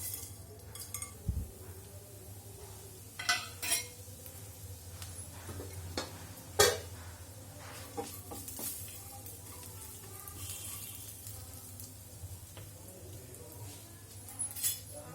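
Whole garam masala spices dropped into hot oil in a kadhai for kadhai paneer, a quiet sizzle under a low hum, punctuated by several sharp metallic clinks and knocks of utensils against the pan.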